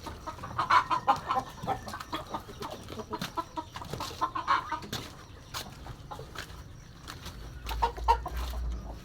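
Repeated short clucks from a native chicken, fairly close, in brief bursts with small pauses, over faint outdoor background noise.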